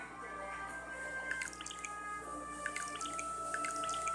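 Crops being watered in the farming video game Harvest Master: soft repeated watery drips and splashes over a low steady background tone with game music, moderately quiet, no voices.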